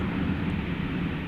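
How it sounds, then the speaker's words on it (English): An Airbus A321 arriving at DFW Airport at night, a steady low jet engine roar that holds at an even, fairly loud level throughout. "Flight 727 operated tonight by an Airbus A321"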